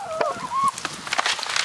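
Several chickens squawk and honk over one another in brief, agitated bursts, close and fairly loud, with a rustle of scuffling.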